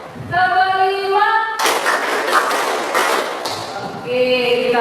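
Pupils in a class clap in unison for a few seconds, a dense run of rhythmic hand claps framed by a chanted counting voice before and after.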